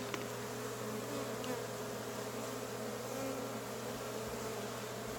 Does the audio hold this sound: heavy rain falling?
no